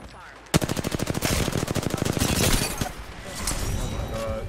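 Rapid automatic gunfire from an Apex Legends match, a sharp onset followed by a fast, steady burst of loud shots lasting a couple of seconds, then trailing into noisier game action.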